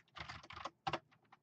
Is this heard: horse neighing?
no